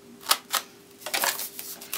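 Scissors snip small cuts into the edges of a leopard-print transfer, a few crisp close clicks, then a quicker cluster of snips.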